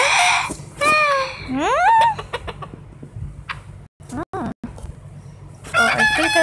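A rooster crows several times in the Toca Farm game, with drawn-out rising calls near the start and again at the end and short clucks in between; a voice may also be imitating the crow.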